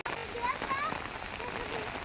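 Steady rain pours down outdoors in a dense, continuous hiss that fills the whole stretch at an even, fairly loud level.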